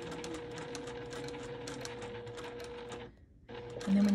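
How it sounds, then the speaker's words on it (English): A sewing machine stitches along the edges of English paper pieced hexies for machine appliqué, humming and ticking steadily at close range. It stops briefly, then starts running again. "And then you will just stitch right along the edge."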